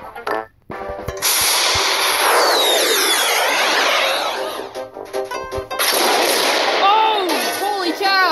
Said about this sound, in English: I want to put more fireworks so it'll travel for a longer time.